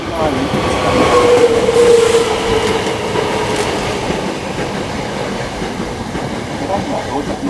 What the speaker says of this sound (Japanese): 河原町方面へ向かう電車が到着します。